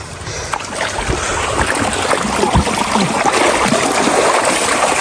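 Irrigation water rushes along a channel feeding farmland near a hidden village at Wadi Shab in Sur, Oman, making a loud, continuous broadband wash with small splashy bursts and no speech.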